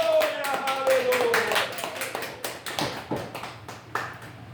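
Church congregation clapping together during a worship service, a burst of many hands that thins into scattered claps, with a sustained sung or spoken tone from the leader running under it at the start.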